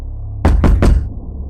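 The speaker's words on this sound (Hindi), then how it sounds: "किसी ने मेरा दरवाजा खटखटाया" Three firm knocks on a door in quick succession, loud and close, at night, with a low hum underneath and no voices.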